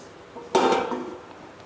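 A metal plate is set down over a pot to cover chocolate muffins baking on a stovetop over low flame, giving a single sharp clanking contact with a short ringing metallic tail, close and alone.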